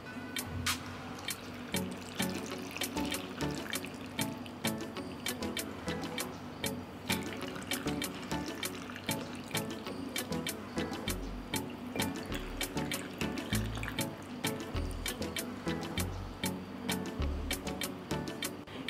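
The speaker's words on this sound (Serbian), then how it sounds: "I zatim ću tegle naliti sa vodom." Water trickles and splashes into glass jars already packed and sweetened with sugar, a close, steady pour with gurgling ripples and small clinks against the glass, no talking.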